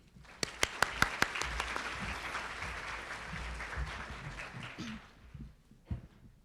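An audience applauds to welcome a speaker at a university event, opening with a few loud distinct claps that swell into sustained clapping from a crowd, then fade away near the end.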